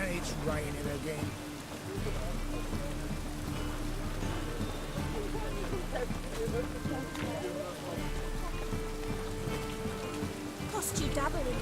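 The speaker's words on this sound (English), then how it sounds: "And it's raining again." Steady rain falls and patters on surfaces in a continuous soft hiss, with a voice speaking and low tonal music playing underneath.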